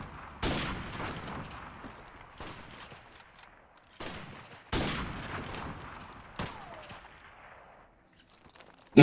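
Sniper rifle shots in the multiplayer first-person shooter Call of Duty: Modern Warfare Remastered on the map Bog, several sharp reports, each trailing off with a long rolling echo, spaced a second or two apart, with one faint late shot.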